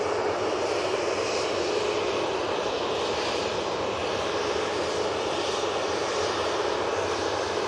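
A Ryanair airliner taxis past at Manchester Airport, its engines giving a steady, loud whine and roar that holds evenly throughout with no talk over it.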